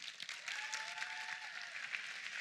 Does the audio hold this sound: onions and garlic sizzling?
no